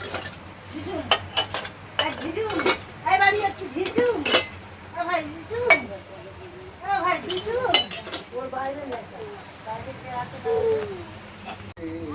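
Spoon clinking against a glass while stirring salt and sugar into water, repeated quick metallic chinks throughout, with a child babbling and an adult talking alongside.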